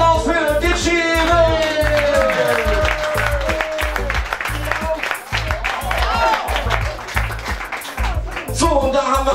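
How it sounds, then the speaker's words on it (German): A crowd at a public football viewing party applauds a former player, with loud, dense clapping and cheering that runs unbroken, ringing voices and whistles rising above it at the start and end, close and lively. "großer Applaus für Digi-Rip!"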